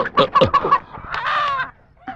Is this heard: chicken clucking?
yes